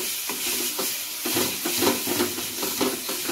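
A spoon stirs coriander powder and garam masala in a hot pan, a continuous sizzle with rhythmic scraping strokes repeating every half second or so, close and fairly loud.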